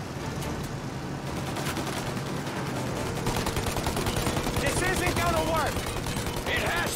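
Rapid gunfire aimed at a plane's engines during a shootout in Mafia Definitive Edition, dense crackling bursts under engine roar, with shouted voices in the mix.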